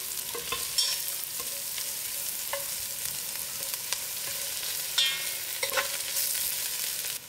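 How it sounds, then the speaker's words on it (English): Thyme stirred and sautéed in a soup pot for chunky butternut soup, a steady soft sizzle broken by scattered light clicks and scrapes of a spoon against the pot. "and my thyme. I stirred it in for a few minutes."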